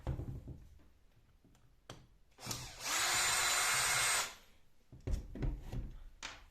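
A power tool backs screws out of the head of a Bosch GWS 850C angle grinder with one loud, steady whir of about two seconds, framed by the clatter of parts being handled.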